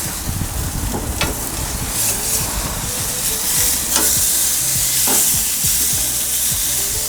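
A tri-tip steak sizzles steadily on a gas grill, a dense continuous crackle and hiss with a few soft clicks and scrapes as the meat is flipped.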